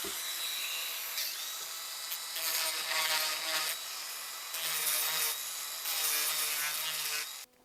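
A wooden saltwater popper fishing lure is worked with a smoothing stone, making close, gritty scraping strokes in several bursts over a faint background hum.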